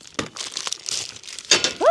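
Thin plastic bags crinkle and rustle close by while garden dormant sprays are handled, with irregular bursts of crackling and a brief squeaky scrape near the end.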